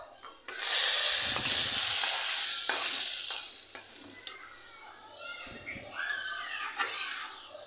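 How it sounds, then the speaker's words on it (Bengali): Fried spice paste is poured into dal as a tempering: a sudden loud hiss bursts up and slowly fades, while spoon stirs and scrapes knock against the pot throughout. "এখন আমি এটা ডালের সাথে ফোড়ন দিয়ে দেব"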